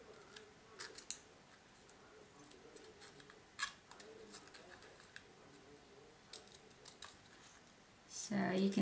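Scissors snip paper while cutting a piece for a handmade card, a series of soft, quiet crisp snips spread irregularly across the clip, followed by a louder rustle at the end.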